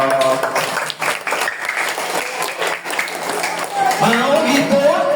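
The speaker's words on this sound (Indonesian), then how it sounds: "Tepuk tangan dong." Schoolchildren at an elementary school Isra Mi'raj event clap together in a loud, dense burst that lasts several seconds, and young voices and a leading adult voice rise over the clapping toward the end.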